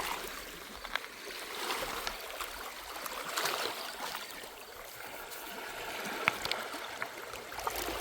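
Water trickles and splashes over a large chunk of slag on the rocky Lake Erie shore, a steady close gurgling stream with a few sharper drips and taps, no voices.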